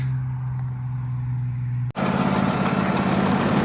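A tractor engine runs steadily at close range with a low droning hum, then a brief cut is followed by a louder, rougher engine rumble.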